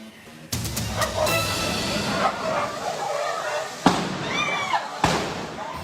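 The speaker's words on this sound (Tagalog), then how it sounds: "Kuha sa videong ito ang pagsabog na galing umano sa nasusunog na LPG." Several sharp, heavy bangs from a burning LPG tank exploding in a house fire burst out over a constant roaring rush of noise, spaced a second or more apart, loud and fairly close.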